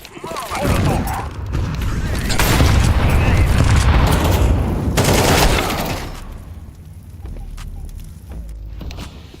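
A grenade and a Molotov going off in Counter-Strike 2, a loud rumbling blast that swells and rolls for several seconds before settling into a lower crackling roar, with game noise throughout.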